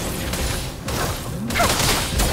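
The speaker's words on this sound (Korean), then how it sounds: "불꽃놀이!" Fireworks in the video game Wuthering Waves, bursts of crackling fusillade and booms over a dense musical background, growing busier toward the end.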